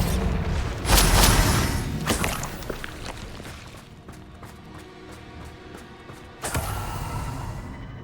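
Confringo and Bombarda spell blasts in Hogwarts Legacy: two heavy booming bursts, one early and one near the end, with quieter clattering and thuds of game action in between.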